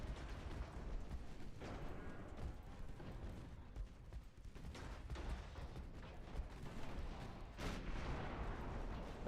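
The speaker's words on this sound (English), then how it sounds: "Torpedo detonation, you love to see it." Torpedo detonation in Ultimate Admiral Dreadnoughts: rumbling, distant naval explosions and gunfire thudding in irregular bursts over a continuous low roar of battle.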